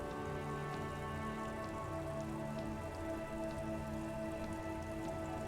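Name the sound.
rain in the video game Disco Elysium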